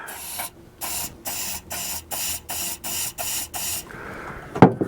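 Repeated short bursts of starting fluid sprayed into the engine of an M151A1 military jeep, about eight hissing pulses in a steady rhythm, close and fairly loud, ending with a sharp click or clunk.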